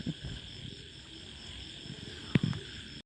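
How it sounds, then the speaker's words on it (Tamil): Frogs and insects calling near freshly planted paddy fields, a steady far-off chorus with a couple of louder close croaks toward the end. "ஃபுல்லாக தவளை சவுண்டாக தான் இருக்கும்"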